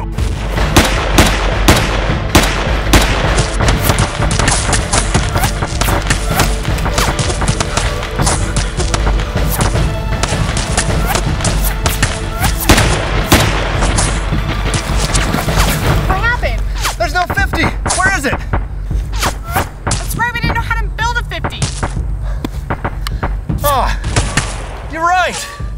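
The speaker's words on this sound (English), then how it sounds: "Give me covering fire." Sustained dense gunfire and booms from a battle scene, continuous and loud for the whole stretch with rapid overlapping shots, thinning toward the end as higher chirping and clatter emerge; voices are tagged but no clear speech stands out.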